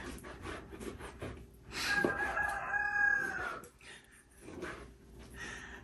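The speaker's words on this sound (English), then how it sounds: "If you can hear the rooster, that's what it's like living on a homestead." A rooster named Boaz crows once on a homestead, a drawn-out call at moderate distance over faint outdoor background noise, followed by quieter rustling and a short soft vocal sound.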